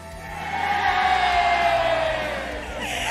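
A large crowd cheering and yelling at an esports event, a loud sustained roar of many voices swelling and then easing slightly.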